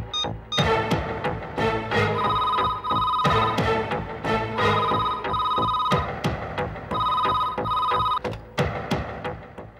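A telephone rings repeatedly with loud electronic trills in regular bursts, close and clear with no talking over it.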